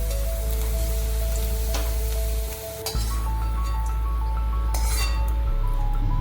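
Fried carrots are lifted out of hot oil onto a plate, with a few sharp utensil clinks against the dish over a steady, close sizzle of frying.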